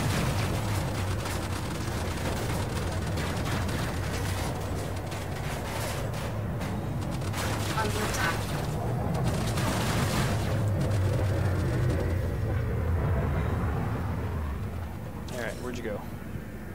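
Rapid bursts of spaceship weapons fire crackle and boom through a space battle in Elite: Dangerous, dense and continuous over a low engine rumble, with a brief sharp sweep near the end.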